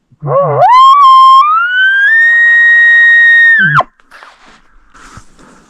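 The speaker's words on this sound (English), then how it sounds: "I can hear another bull bugling over there." A bull elk bugling close by on public land during an archery hunt, one loud rising whistle held for about three seconds that ends in a sudden low grunt, then quiet rustling.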